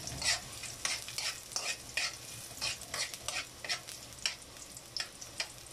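Onion sautéing in a hot kawali, a quiet steady sizzle broken by frequent short scraping strokes of a spatula stirring, close up with no talking.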